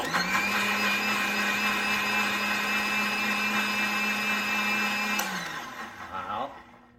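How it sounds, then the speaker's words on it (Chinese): An electric blender whirs loudly and steadily, puréeing a garlic, soybean and basil sauce with sugar, then winds down and stops near the end. "我们就要来做一个搅拌，要把它打匀的动作啦"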